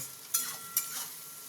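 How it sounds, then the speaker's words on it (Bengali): Egg fries in a pan for egg fried rice, a continuous close sizzle punctuated by two quick scraping strokes of a spatula. "এটাকে আমি একটু ভালো মতন ভেজে নেব।"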